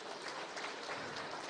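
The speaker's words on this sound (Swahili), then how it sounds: "Tumpigie makofi tafadhali." A crowd at a political event in Kenya claps, a brief, faint but continuous patter of applause with no talking.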